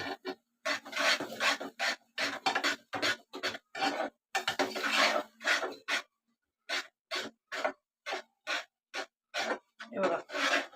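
A spatula rasps and scrapes in a pan as a spice paste is stirred and fried in oil on low heat for a chickpea amti, in repeated rhythmic strokes with a short pause partway through.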